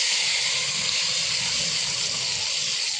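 Potato pieces dropped into hot oil tempered with panch phoron, giving a steady, close, broad sizzling hiss that holds evenly throughout with no talking.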